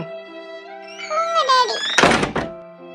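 A door is opened with a rising squeak and a dull thunk, close by, over steady background music.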